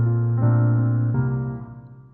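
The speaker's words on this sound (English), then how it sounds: "So if the sustain pedal is hold, so it should sound like this" Piano notes played with the sustain pedal held down: three struck notes or chords in sequence, each blending into the last and ringing on as they slowly fade, with no talk.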